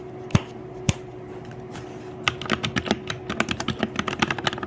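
Mechanical keyboard with a typical OEM-style sound: two isolated keystrokes, then a fast, steady run of crisp, close-up clacking typing.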